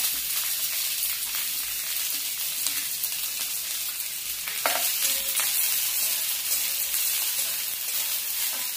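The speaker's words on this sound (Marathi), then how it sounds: "आता कांदा भाजून घेऊया" Onion frying in hot oil in a pan makes a loud, dense, continuous sizzle and hiss, close up, with a few faint clinks of stirring and no talking.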